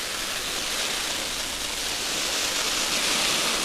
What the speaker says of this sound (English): Just to simulate a good heavy shower if you were unlucky enough to get caught out.